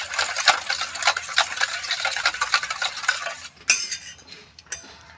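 A utensil beats egg batter with salt and baking soda in a bowl, producing a rapid, close run of clicking, tapping strokes that slow and thin out near the end.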